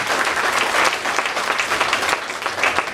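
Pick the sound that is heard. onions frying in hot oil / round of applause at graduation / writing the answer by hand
round of applause at graduation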